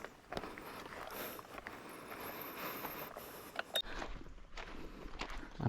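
Footsteps crunch and scuff over a rocky trail of large stones near Basaw Lake, Cabasan, Peñablanca, faint and irregular with occasional sharper knocks and no talking.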